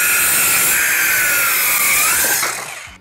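A Wix cordless mini circular saw cuts through wood with a loud, steady whining buzz lasting about two and a half seconds, then the noise quickly tails off as the blade clears the board.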